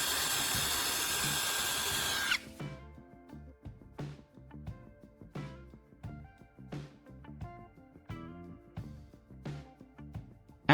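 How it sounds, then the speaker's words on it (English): A power drill bores a straight hole for a knife-sharpening rod, starting with a steady whine, then breaking into a series of short, evenly spaced bursts, close and fairly quiet. "Then I'll drill a precise hole through it."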